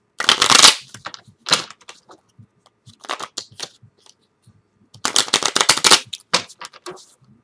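A deck of tarot cards shuffled by hand in several bursts: a quick riffle, short flurries of card slaps, then a longer dense shuffle, close and crisp against near silence.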